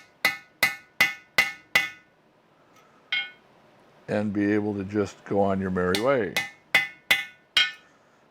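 A hammer beats on a broken-off drill bit stuck in a passage with sharp metallic strikes, five in quick rhythm, then one alone. Someone talks briefly before another rapid run of five blows.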